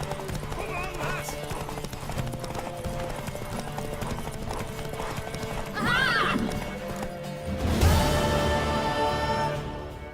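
Horse hooves galloping in The Witcher 3 video game, a fast, steady clip-clop with a loud whinny partway through, set against background game sound.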